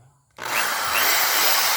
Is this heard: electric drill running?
yes